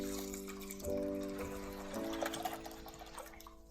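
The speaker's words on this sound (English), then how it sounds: "Now we are going to put our washed lentils in a pot and add about 6 cups of water." Water pours steadily into a pot of washed red lentils, with a rising tonal ring as the vessel fills, fairly quiet and close.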